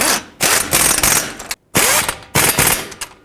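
A ratchet snugs bolts on a 2011-2018 RAM 2500 front wheel hub in close, loud bursts of rapid clicking separated by short pauses, with no speech.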